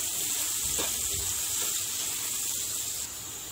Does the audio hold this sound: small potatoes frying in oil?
yes